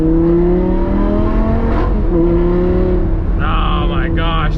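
A modded Audi R8 V10 with a loud exhaust revs in second gear, heard as a continuous engine drone whose pitch slides and shifts, close and loud throughout.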